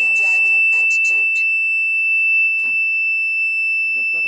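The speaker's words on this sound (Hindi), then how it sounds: "जब तक हम सीट बेल्ट लगाएगा नहीं ये साउंड करता ही रहेगा" A continuous, loud, high-pitched seat belt warning alarm in a bulldozer cab holds steady throughout, with brief speech at the start and a few faint knocks and voices beneath the tone.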